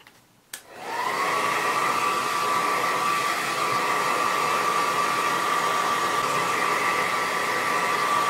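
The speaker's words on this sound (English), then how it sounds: "let's heat up this adhesive." A hair dryer clicks on and blows steadily with a loud, even whoosh and whine, heating the adhesive for a helmet chin mount, with no talking.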